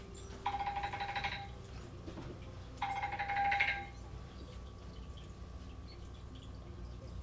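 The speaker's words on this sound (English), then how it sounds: "my phone's ringing." A telephone rings twice in electronic bursts, each about a second long with a pause between, over a low steady background hum, during a gaming stream.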